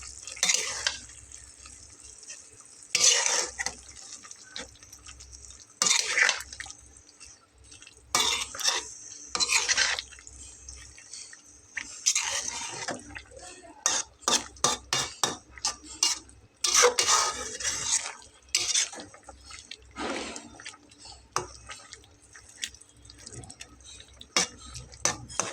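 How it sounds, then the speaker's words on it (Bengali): A spatula scrapes and stirs potato and long bean vegetable curry in a pan, giving intermittent clinking and scraping strokes in uneven bursts over a faint sizzle, close and fairly quiet. "খুন্তি দিয়ে ভালো করে নেড়ে এটাকে এর সাথে মিলিয়ে দেব"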